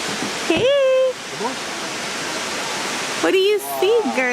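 A waterfall near Valdez, Alaska roars as a steady, loud rushing wash, with people's voices calling out briefly over it.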